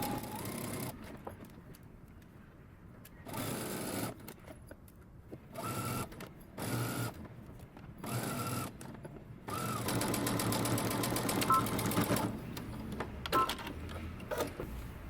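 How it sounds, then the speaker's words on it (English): A sewing machine stitches dress sleeves together in short bursts of rapid mechanical chatter, stopping and starting repeatedly with quiet gaps between, ending in a longer continuous run. "we're going to go to the sewing machine, and in one continuous stitch we're going to sew them together"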